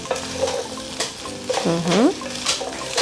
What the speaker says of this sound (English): Vile wewe usikia ukiweka kitunguu kwa mafuta.